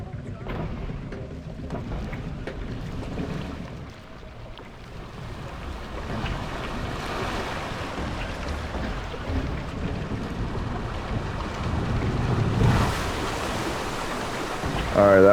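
A log flume ride with a pre-drop in Planet Coaster gives off a steady wash of rushing water and low rumble that swells louder near the end.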